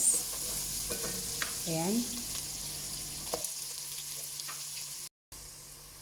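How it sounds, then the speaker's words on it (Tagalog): Chopped onions dropped into heated cooking oil, sizzling and frying steadily while being stirred, close and moderately loud; the sizzle drops away partway through, and a brief spoken word is heard. "Nagpainit na ako ng mantika, simulan na natin yung paggisa. Ihulog na po natin yung sibuyas."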